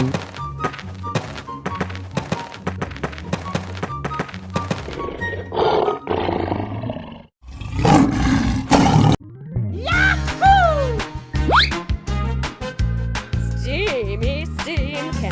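A lion roars in a casual animal painting game, a loud roaring burst in the middle that cuts through a looping game tune with thumps, followed by more animal calls and music, with no one speaking.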